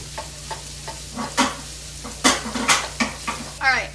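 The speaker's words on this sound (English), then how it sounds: "our sausage is completely cooked and broken up to the size that I want it to be" Sausage frying in a pan while a utensil stirs and breaks it up, giving repeated scraping strokes over a steady sizzle, fairly close and moderately loud, with no talking.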